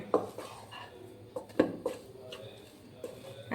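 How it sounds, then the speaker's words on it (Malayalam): Cutlet mixture with coriander leaves being stirred and mixed in a bowl, giving a few sharp utensil clinks and scrapes against the dish at irregular intervals, close and fairly quiet with faint talk in the background. "ഇനി അതും കൂടി ഒന്ന് ഇളക്കി മിക്സ് ചെയ്യുവാണ്."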